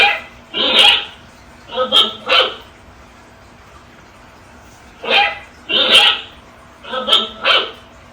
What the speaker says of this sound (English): So I'm gonna put it on sensor mode just so y'all can hear the bark.